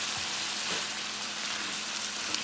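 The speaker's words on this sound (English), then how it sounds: "I'm going to allow this to fry for 15 minutes, y'all" Half a stick of butter frying in a skillet for Southern fried corn, giving a dense, even crackling hiss that runs steadily throughout at close range.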